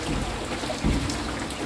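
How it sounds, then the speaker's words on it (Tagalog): Dense, steady hiss of heavy typhoon rain pouring down close by during flooding, with a brief low thump midway. "Pag talagang malakas pang ulan."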